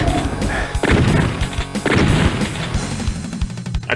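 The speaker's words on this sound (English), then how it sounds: "I try not to talk when I am shooting." Shotgun and pistol blasts from the video game Doom in the Knee-Deep in the Dead episode, several sharp booming shots with short decays, loud and close, spaced irregularly over a noisy background.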